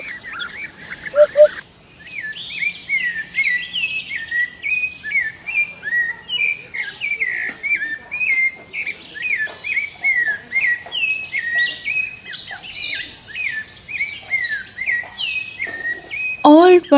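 Tropical jungle birds chirp and whistle in quick, repeated bright phrases, close and clear, forming a busy continuous chorus over a quiet background.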